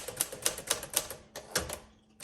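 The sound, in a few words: 1951 Smith Corona Sterling typewriter keys typing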